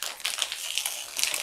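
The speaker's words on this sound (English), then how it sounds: "hopefully I can get the bag open." Crinkly plastic rustling and crackling in quick bursts, close and fairly quiet, as someone tugs at a candy bag trying to open it.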